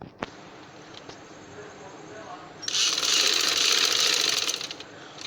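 A sewing machine stitches fabric for a decorative tassel (latkan). It runs in one fairly loud, steady burst of about two seconds in the middle, with quiet handling before and after.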